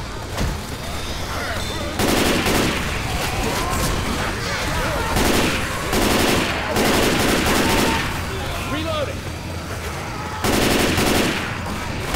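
Gunfire in the zombie shooter game Left 4 Dead 2, with loud sustained automatic bursts of a few seconds each, separated by short pauses filled with quieter shooting and game noise.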